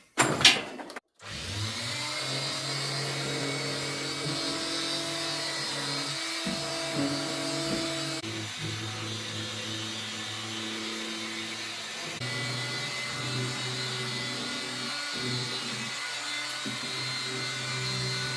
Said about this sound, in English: I'm going to change over to the mouth sander. It's pointed and it gets in all those corners.